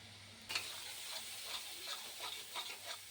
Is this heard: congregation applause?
no